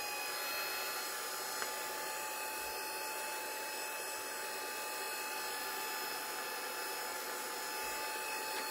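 A hair dryer blows steadily across a damp, inked craft card, a continuous broadband whirr holding even and fairly loud for the whole stretch with no talking.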